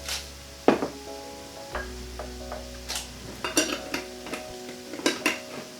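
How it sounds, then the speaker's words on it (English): Rice and spices for vegan paella rustle and sizzle softly as the rice toasts in a frying pan, with scattered scrapes and clinks of a utensil stirring. "we're going to just pour that in to the frying pan just to coat it in all of the spices"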